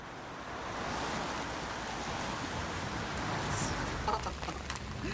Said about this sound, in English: It's a torrential downpour.